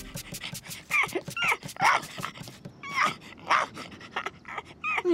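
A cartoon dog whimpers and yips in quick bursts, with high whiny cries and panting breaths coming close and loud, with no one talking.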